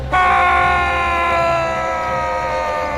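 A man screams loudly in terror at the sight of a badly burned figure: one sustained, piercing, tonal shriek that starts abruptly and holds steady for about three seconds before easing slightly.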